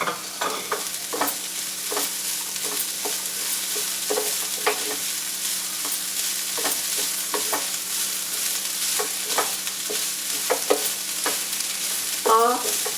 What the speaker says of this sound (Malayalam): ഒരു 3-4 മിനിറ്റ് ഇതൊന്ന് വഴറ്റണം.